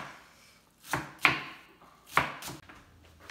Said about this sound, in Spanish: Ya picamos toda la cebolla